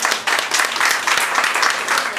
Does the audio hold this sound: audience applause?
yes